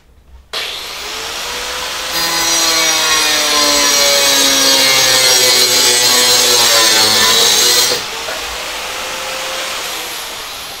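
A small angle grinder cuts into a 4.5 inch vinyl fence post, its loud whine rising as the disc bites and holding steady for several seconds before easing back to a lighter idle hum.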